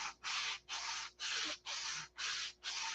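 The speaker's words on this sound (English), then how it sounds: "then take the sanding block and" A sanding block is rubbed back and forth over a thin sliver of wood, flush against a square, in seven steady, close strokes with short pauses between them and no talking.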